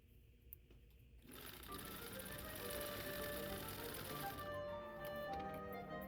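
Sewing machine stitching a pocket onto a plaid half circle skirt: a quiet start, then a sustained, fast, even mechanical whir with tight rhythmic clatter running steadily until the end.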